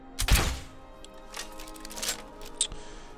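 A sharp thunk of a dwarven crossbow bolt being fired in Skyrim, followed by a few softer thuds and a brief high whistle, with no talking.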